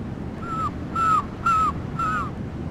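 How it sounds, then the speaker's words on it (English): Four evenly spaced seagull cries ring out in Sonic Adventure 2, each a short, bright call over steady background game ambience. "Look at them seagulls."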